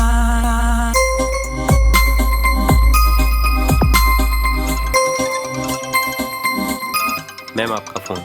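A mobile phone plays a bright, jingling melodic ringtone in a Hindi romantic film scene. It rings continuously and loudly for about eight seconds, with low thuds underneath, and trails off into busier tones at the end.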